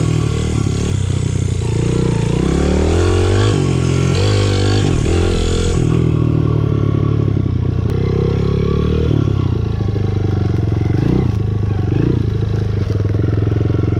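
Honda CRF 100F dirt bike engine revving hard in first gear during wheelie practice, a loud, steady close-up buzz with rising and falling pitch and some clattering, continuous for the whole stretch.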